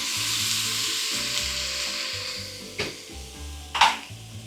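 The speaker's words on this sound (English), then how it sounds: "You hear that sizzle?" Food sizzles steadily in a hot pan, with a couple of sharp clinks of a utensil against the metal near the end.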